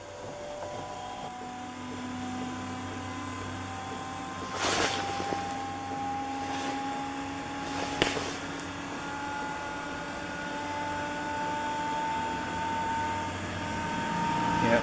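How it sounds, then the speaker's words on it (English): An Espar D2 diesel heater runs with a steady mechanical hum and fan whir, its fuel pump working under the floor, with a couple of brief louder bursts along the way. "You can hear the pump under the floor here, pumping the diesel."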